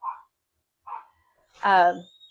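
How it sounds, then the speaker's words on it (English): Household dogs let out a few short yips and then one louder, fuller bark indoors as someone comes in, with quiet gaps between calls. "the dogs go ballistic every single time they hear somebody coming in"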